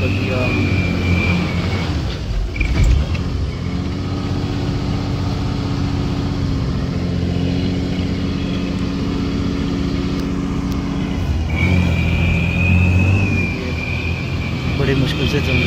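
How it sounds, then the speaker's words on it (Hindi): Bus engine laboring on a rough offroad mountain road from Sardi to Rampur, a steady low droning hum under a rattle with a brief clatter early on, while people talk over it. "बड़ी मुश्किल से चल रही है बस"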